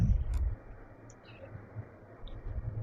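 A computer mouse clicks once or twice while a part is modeled in SolidWorks, small sharp ticks close up over a quiet room hum, no talking.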